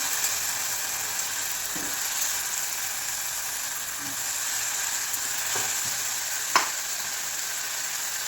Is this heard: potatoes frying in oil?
yes